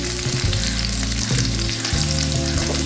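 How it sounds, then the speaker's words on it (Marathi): Seer fish (surmai) fries in a pan over low heat, a dense, close, continuous sizzle with faint shifting as the fillets cook, no voices. "मंद आचेवर सुरमई फ्राय करते"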